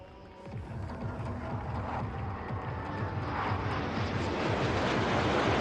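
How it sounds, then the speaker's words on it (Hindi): An airplane passing overhead during an outdoor public event in Somnath, its broad engine roar growing steadily louder and closer with no talk over it. "से आता हुआ एक विमान, मगर क्या ये एक विमान है या दो?"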